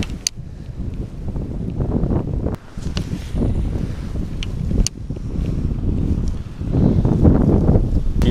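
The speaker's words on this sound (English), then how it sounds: "The wind is blowing in here." Strong wind buffets a microphone out on a lake during boat fishing, a loud, steady roar with gusty swells and a few sharp knocks, no voices.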